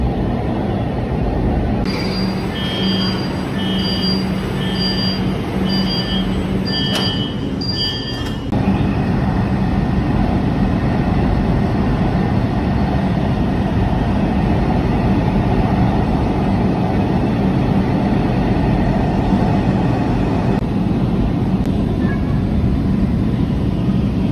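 A Kolkata Metro Orange Line train runs and pulls into a station, a steady loud rumble of wheels on rails with brief high tonal chimes early on, then continuous rolling noise as it slows.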